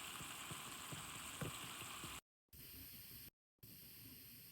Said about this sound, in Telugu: ఇలా ఉడుకుతుంది చూడండి